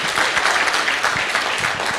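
An audience in a seminar hall claps together in a dense, continuous burst of applause, close and lively for the whole stretch.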